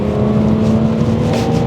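A Ford Falcon XR6 with the 4-litre Barra straight-six runs steadily at a strong, even idle or light rev, a loud and close droning engine note with no speech.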